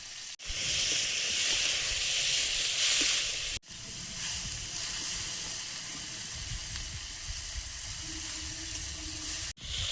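Spices sizzle and hiss steadily in hot oil for a curry, a dense frying crackle filling the whole stretch with brief gaps where the pan is stirred or lifted.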